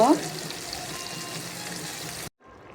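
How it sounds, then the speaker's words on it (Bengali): Taki fish fries in oil for a mash, giving a steady bright sizzle for about two seconds before it cuts off abruptly into near silence. "টাকি মাছ ভর্তা বানানোর জন্য ভাজা শুরু করে দিলাম"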